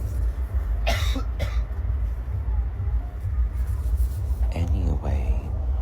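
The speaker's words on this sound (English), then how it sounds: "You know what would help that guy kill that cough?" A person coughs a few times in short bursts, with a second rougher cough cluster near the end, set against a steady low rumble of background noise and faint murmuring.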